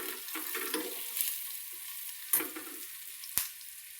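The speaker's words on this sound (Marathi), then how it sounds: "तेलात चांगलं फ्राय करून घ्यायचं." Spices and asafoetida frying in hot oil, a crackling sizzle with a few stirring scrapes and sharp clinks of a utensil against the pan, close and fairly quiet.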